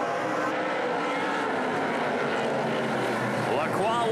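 NASCAR Pinty's Series stock cars roar out of turn four during the QuickWick 125, a dense sustained engine drone with passing pitch sweeps near the end, under a commentator's talk.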